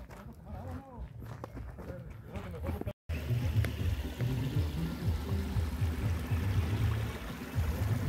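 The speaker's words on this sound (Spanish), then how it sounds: "aquí andamos en el río Sonora" The Sonora River flows as a steady rushing wash near the bank during a family outing. Speech fills the first few seconds, and after a brief cut the water noise dominates.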